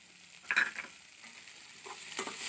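Crushed garlic and curry leaves are sautéed in a pan: a few quiet spatula scrapes and a light sizzle, faint and close.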